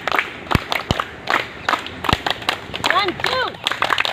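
Sharp hand claps come in short rhythmic pairs during a group stretching routine at a running club, mixed with shuffling movement while an instructor counts and talks over them.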